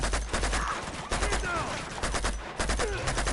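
Gunfire and explosions from a grenade launcher fight in the video game Uncharted, dense rapid bursts of shots and blasts filling the whole stretch loudly, with a voice speaking briefly underneath.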